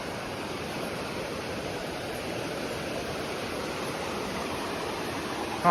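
Continuous broadband rush of a river flowing beside a campsite in Gopeng, Malaysia, steady and unchanging, with no voices or other distinct sounds over it.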